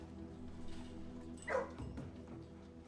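Dogs in the Blue Prince video game let out a couple of faint barks and yips over a low, steady background hum, with one sharper bark standing out midway.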